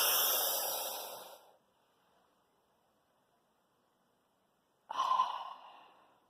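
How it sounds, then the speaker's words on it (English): Two hard, fast, breathy inhalations through a dry powder inhaler for COPD medication, each a loud rushing hiss about a second long, separated by a long near-silent breath hold. "And that's how you would take a powdered inhaler, that hard and fast breath"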